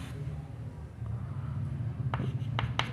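Pen scratching across paper while an accounting journal entry is written out, a quiet, near, continuous scribble with a low background hum and a few sharper strokes near the end.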